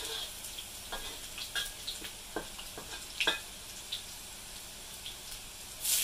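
Onions and chilies fry in a pan with a soft, continuous sizzle. Scattered light clicks and scrapes from stirring sound close by, and no voices are heard.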